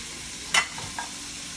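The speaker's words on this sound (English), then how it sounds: "You put that bacon in there, like I said, on medium-high heat. Now we're going to let that go until it browns." Chopped bacon fries in a pan over medium-high heat, a close, steady sizzle broken by a sharp scrape of a spoon and a softer clink.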